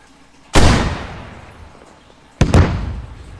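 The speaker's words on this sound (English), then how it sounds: "I think I actually just ricocheted the rocket off the slope because you saw it exploded up the hill" A recoilless rocket blasts against a hillside in the video game Squad: a loud close boom decaying over about two seconds, then a second sharp double crack and rumbling burst.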